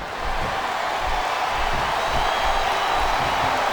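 A wrestling arena crowd at a WWE SmackDown event sends up a dense, steady roar that swells slightly throughout, a broad wash of many voices with no single voice standing out.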